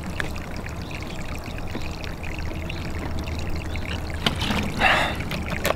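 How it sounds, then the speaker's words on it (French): Spring water poured into a bottle outdoors, a steady trickling stream that swells into a fuller gurgle near the end, close up with no voices. "Je vais remplir ma bouteille."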